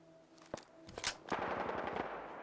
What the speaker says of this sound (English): These explosive bullets are just awesome.